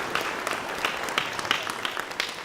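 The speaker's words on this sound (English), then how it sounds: "let's give a big round of applause for Marques Ogden." Applause from a high school football team audience greets a guest speaker, a burst of scattered clapping with sharp individual claps standing out over a steady patter throughout.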